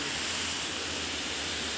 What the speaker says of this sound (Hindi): साइड से पानी जा रहा है गाइस